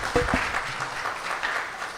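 A conference audience gives a brief burst of applause, a few distinct claps at the start followed by a moderate, even patter of hands.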